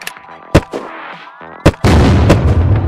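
Video game gunfire aimed at enemies on a hill: a couple of sharp isolated shots followed by a loud, sustained burst of firing, close and booming.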